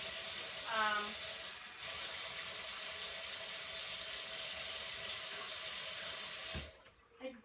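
Hot water runs from a kitchen tap for homemade pizza dough, a steady close rushing stream lasting several seconds with a brief clink near the start, before the flow is shut off.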